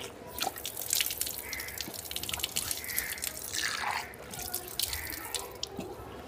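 Water splashes and drips close by as a face is washed during wudu, with irregular droplets and a soft running trickle from a tap over several seconds.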